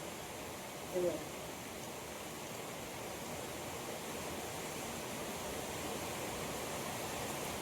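Water runs out steadily during washing as a faint, even rushing that holds throughout, with one brief knock near the start and no talk.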